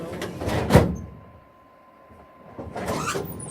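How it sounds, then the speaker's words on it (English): A metal filing cabinet drawer slides and bangs shut nearby, followed by a quiet pause and another rolling slide as a drawer is pulled open. "The sounds of filing cabinet drawers."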